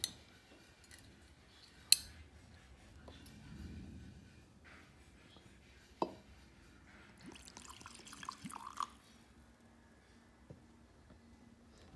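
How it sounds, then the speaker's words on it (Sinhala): The first shot of liquor is poured into a glass: a soft liquid trickle and splash with a couple of sharp clinks before it, close and quiet, with no talking. "පළවෙනි ෂොට් එක දාගමු අපි."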